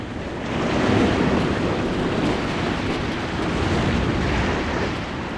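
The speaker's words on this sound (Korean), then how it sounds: "거친 파도" Rough sea waves pound continuously during a typhoon with gale-force winds, a dense roaring wash of surf and wind filling the whole stretch, loud and unbroken with no voices.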